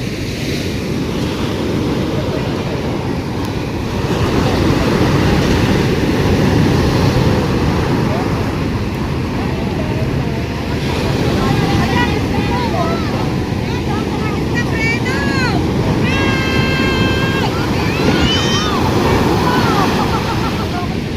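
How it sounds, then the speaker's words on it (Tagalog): Heavy ocean surf roars and surges around a boat, with strong wind buffeting the microphone and faint voices and chirps breaking through. "Halos na makita yung bangka sa laki ng alon"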